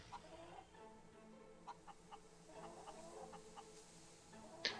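Chickens in the video game Fable 3 cluck in a steady scatter of short calls over a low ambient game background, with one sharper squawk near the end.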